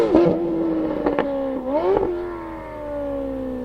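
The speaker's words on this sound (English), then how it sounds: "A Capristo aftermarket exhaust launch and it sounds so good." Ferrari F430 Scuderia fitted with a Capristo aftermarket exhaust launching hard, a loud close engine roar climbing in pitch with sharp rev surges and a gear change, then settling into a steady high drone.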